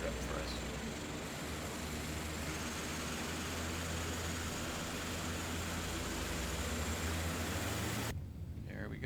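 Saab 340 turboprop engine starting up in a Prepar3D flight simulator, a steady loud whirring engine drone with a low hum that runs throughout and cuts off abruptly near the end.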